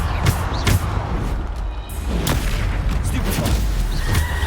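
Bombarda blasting spell explosions in a Harry Potter video game, several booming thumps in quick succession over a constant low rumble of game noise, with a voice speaking between the blasts.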